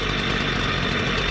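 A demo saw's small two-stroke engine runs after a pull-cord start, a steady close idling drone with a rough, slightly knocking texture and no talk.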